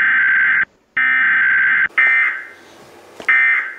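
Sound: Michigan Emergency Alert System alarm tone

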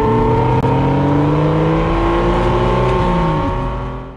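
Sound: BMW M series car engine revving

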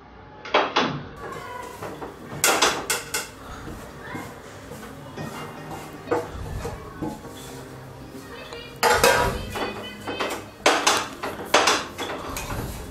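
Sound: mixing mashed potato and onion for kachori filling

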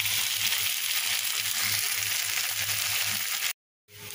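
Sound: flat beans frying in a pan

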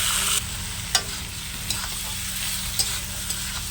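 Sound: marinated goat meat sizzling in hot oil

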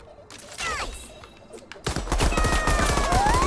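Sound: holy hand grenade explosion in video game Worms Rumble

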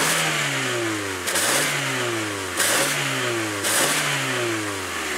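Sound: car engine revving with a faulty exhaust

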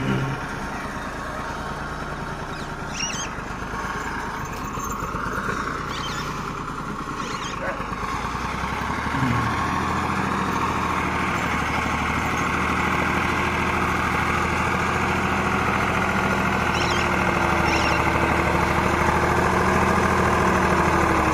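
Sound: Same Greaves 353 tractor engine pulling a 3 MB plough

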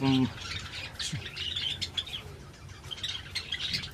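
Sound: Java sparrows chirping

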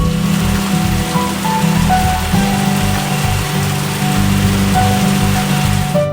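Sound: artificial rain falling in an indoor rainforest

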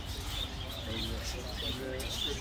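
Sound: birds chirping in a bird reserve in Medina

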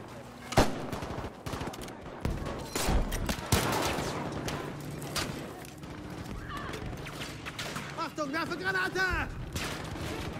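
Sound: gunfire in the video game Battlefield V

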